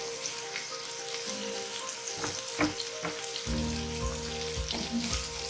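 Chopped ivy gourd (tindora) frying in a pan with roasted green chilies for a tindora and potato sabzi, a steady sizzle with a few sharper crackles and pops, close and alone.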